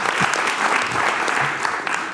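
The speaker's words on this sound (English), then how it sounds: "Please, a warm applause for Sara." Audience applause at a live presentation event, a dense steady wash of many hands clapping, fairly loud and continuous throughout with no talk.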